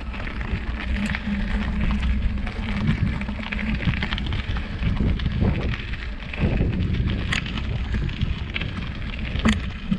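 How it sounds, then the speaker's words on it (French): Steady wind buffets the microphone with low rumbling gusts throughout, a constant outdoor roar with occasional faint rustles. "Petit vent là qui nous frise les oreilles"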